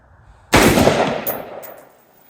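A single sharp rifle report from a PSA 16-inch AR upper with a nickel boron bolt carrier group at an outdoor range, loud and close, followed by a rolling echo that fades over about a second.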